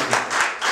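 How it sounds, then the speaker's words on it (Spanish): Congregation clapping during a church sermon, a loud, close burst of many hands in a brief, continuous spatter. "Denle un aplauso a Cristo"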